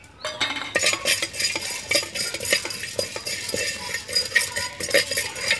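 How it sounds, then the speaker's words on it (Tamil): Pepper, cumin and fennel are dry-roasted in a heated pot, with a continuous scraping stir and frequent metallic clinks of a spoon against the pot at close range. "இதில் மிளகு ஜீரகம் சோம்பு இது மூணுத்தையும் அப்ளை பண்ணி வறுக்க போகிறோம்."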